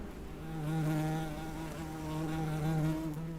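Insects buzz steadily around the tall red flower tower of Mount Teide bugloss, a close, continuous drone with a low hum and overtones that swells and fades slightly as they pass.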